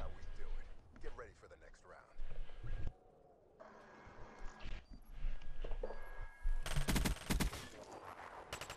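Gunfire in Black Ops 3 competitive multiplayer: repeated bursts of automatic shots in clusters, loudest near the end, mixed with footsteps and players talking over the action.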